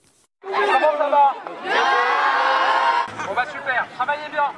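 A crowd greets the new French Prime Minister Gabriel Attal on a school visit with the education minister, loud shouts and cheers from children and adults, bursts of excited voices rising and falling close by.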